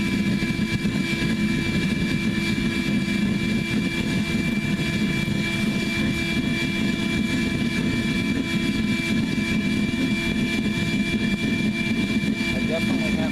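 A homemade waste oil burner built from a propane tank roars steadily with forced air, a loud continuous rumbling whoosh with a faint whine above it, while someone talks over it.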